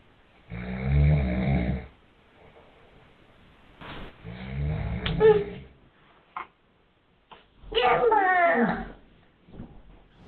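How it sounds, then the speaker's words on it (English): A person snores in three long, rasping breaths separated by pauses, close and fairly loud, with no other sound between them. "I'm sure most people know what snoring is."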